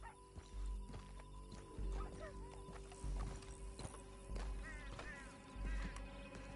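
Horse riding in Red Dead Redemption 2, with rhythmic hoofbeats striking in regular heavy bursts roughly every second, occasional whinnies and snorts, and brief voices over the galloping.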